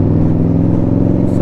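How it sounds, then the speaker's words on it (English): Indian Scout Bobber motorcycle running through aftermarket Maverick Crusher exhaust pipes, a loud, steady, deep engine drone held close throughout with no voices. "I wish I could put like a silencer inside of this exhaust, but I don't think they do it for the Maverick Crusher pipes that I've got"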